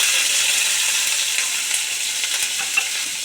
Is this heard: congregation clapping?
no